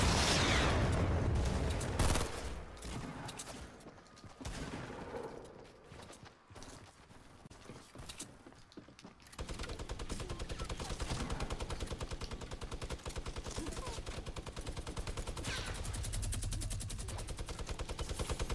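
A minigun fires in a video game as a long, dense, continuous rattle of rapid shots, loud at the start, fading through a dip, then resuming as a steady sustained stream to the end.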